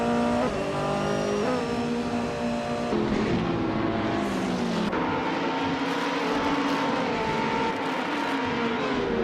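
Race cars roar continuously in a video game race, a 2019 BMW M8 GTE among them, engine pitches rising and shifting through gear changes, loud and close with overlapping cars.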